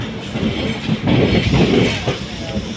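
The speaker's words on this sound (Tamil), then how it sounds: "மங்களூர் வண்டி பேசஞ்சர் தான்" A Mangalore passenger train runs steadily, with loud continuous rumble and rattle of railcars and wheels heard from on board, no other sound rising above it.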